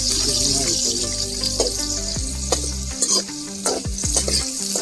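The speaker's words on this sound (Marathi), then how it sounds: "लसूण, कांदा टाकून देतो" Garlic and chopped onion sizzle and crackle in hot oil in a pan while being stirred, a loud close frying hiss with scraping stir strokes throughout.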